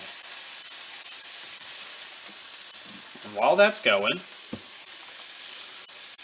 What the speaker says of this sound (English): I'm actually just going to place all of this right into the same hot pan